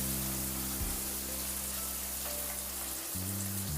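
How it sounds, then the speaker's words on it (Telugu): Fish fries in oil in a pan for Chennai-style fish fry, giving a steady, dense sizzle with a low hum underneath throughout and no talking. "ఇప్పుడు ఫ్రై చేసేసుకుంటున్నా ఇది కూడా వేసేస్తాను అందులోనే"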